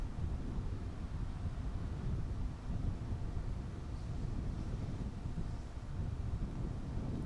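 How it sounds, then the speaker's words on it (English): Strong headwind gusting across an open golf course during the final day of a tournament, a steady, loud low roar of wind buffeting the microphone throughout with no other sounds standing out. "Ripping headwind."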